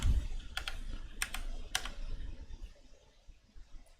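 Typing on a computer keyboard, with bursts of quick key clicks at an irregular pace, fairly quiet and close, with no speech.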